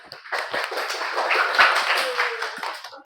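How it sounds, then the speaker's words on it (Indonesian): A classroom group applauds after group 1 finishes presenting, a short burst of dense, close clapping from several people lasting a few seconds before fading out. "Oke, terima kasih kelompok 1, beri aplaus."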